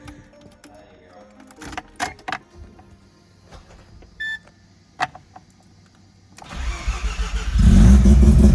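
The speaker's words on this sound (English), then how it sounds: "let's pray these plugs aren't fouled." A Mazda RX7 with a bridgeport rotary engine and a new exhaust cranks over after scattered clanks and movement, then fires up and settles into a loud, rough, close idle.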